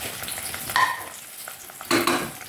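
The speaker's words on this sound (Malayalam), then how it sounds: "നമുക്കതിലേക്ക് നമ്മുടെ ചെറിയ ഉള്ളി അരിഞ്ഞ് വെച്ചിരിക്കുന്നത് ഇട്ട് കൊടുത്ത് വഴറ്റിയെടുക്കാം." Chopped small onions sizzle gently in hot coconut oil for a beef fry, a soft steady hiss broken by two brief, louder bursts of stirring and scraping.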